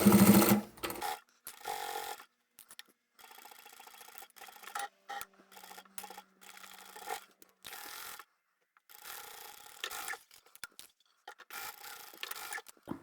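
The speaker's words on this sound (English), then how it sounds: "I'll back stitch at the beginning, sew all the way to the other end." A sewing machine stitches a side seam on a fabric bag made from swatch samples, with a back stitch at the start. Whirring bursts come close and steady, broken by short pauses and fabric handling, with no talk.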